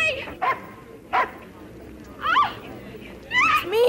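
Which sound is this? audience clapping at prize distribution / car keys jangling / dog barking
dog barking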